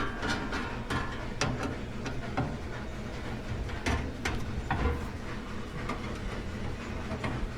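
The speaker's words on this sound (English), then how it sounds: "then we're going to tighten the screws back down" Screws on the rear panel of a Duplo DC-646 are tightened, giving a run of quick, close ratcheting clicks over a steady mechanical hum.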